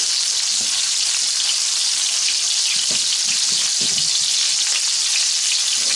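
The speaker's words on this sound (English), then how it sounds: "Start browning on one side, we'll flip those over. Let them cook real quick on the other side." Breaded steak sizzles and fries steadily in a hot pan, a constant close crackling hiss with a few soft clinks of handling, and no talking.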